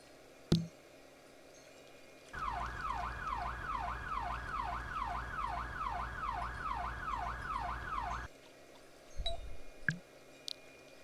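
Police car siren in the game Second Life: a wailing, rapidly oscillating electronic siren runs steadily for about six seconds over a low engine hum, with a few brief knocks before and after.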